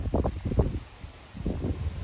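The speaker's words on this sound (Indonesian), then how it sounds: "Ini benar angin badai teman-teman." Strong stormy wind gusts and buffets at the microphone, with bursts of rumbling rustle that come and go in two waves around a brief lull.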